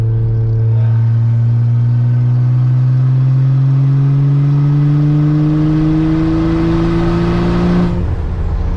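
Toyota Aristo with a single turbo conversion accelerating in fourth gear, a loud, close, steady engine drone rising slowly in pitch for about eight seconds before easing off.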